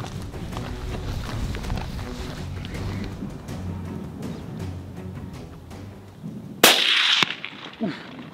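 A single sharp rifle shot cracks loudly during a zebra hunt on safari, a sudden blast after quiet rustling and footsteps, followed by a short ringing fade and a few quieter knocks.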